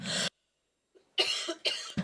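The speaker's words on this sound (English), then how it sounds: "You'll have to excuse me, folks. I've got a bit of a cough." A few harsh, close coughs from a man: one burst, a pause of silence, then a quick pair of coughs and the start of another.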